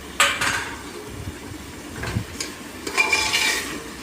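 Paneer being stirred into masala in a pan, with a few sharp clinks and scrapes of a spoon against metal over a low background hiss.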